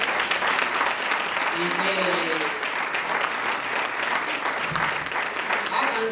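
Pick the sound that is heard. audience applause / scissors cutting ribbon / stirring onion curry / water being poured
audience applause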